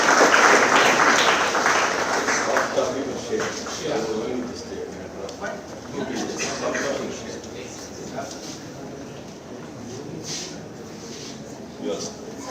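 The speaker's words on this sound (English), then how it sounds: "let us applaud this moment of pride and accomplishment" A conference audience at a doctoral colloquium applauds a book release: dense clapping is loudest at the start, then thins and fades, with voices talking over it.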